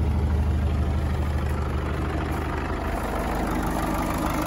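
A 1994 Land Rover Defender 110 with the 300Tdi diesel engine idles steadily after starting, a close, loud low-pitched rumble with an even rhythmic clatter throughout.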